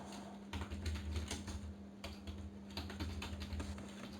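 Steady, close typing on a computer keyboard while entering Excel VBA code, quick uneven clicks in continuous runs with a brief pause, over a low steady hum.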